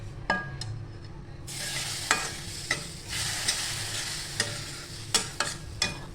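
Warm milk hits roasted semolina in a hot pan, bursting into a steady hiss and sizzle that carries on under scattered clinks and scrapes of a spoon stirring, with no talking.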